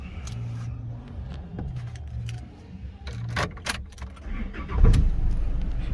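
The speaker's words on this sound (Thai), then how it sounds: "กดล็อกนะครับทดสอบสตาร์ทนะครับ" A Chevrolet Colorado pickup engine cranks and catches after clicks and light key-fob rattling, then settles into a steady low idle, close and fairly loud.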